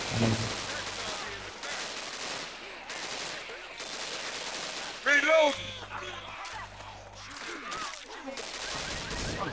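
Gunfire in the video game Left 4 Dead 2 crackles in bursts through the clip, fairly faint, while a player talks over it.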